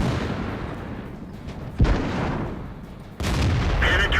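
Tank cannon fire booms from a T29 heavy tank in World of Tanks: one sharp blast, then a second heavy report over steady engine rumble.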